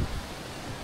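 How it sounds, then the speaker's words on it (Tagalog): Strong wind blowing across a hilltop resort overlooking a river makes a brief, steady roar of broadband rushing noise against the microphone, with no talking. "ang lakas ng hangin oh"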